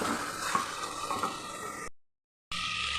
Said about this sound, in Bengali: ভালো করে মিলিয়ে আমি কষিয়ে নিচ্ছি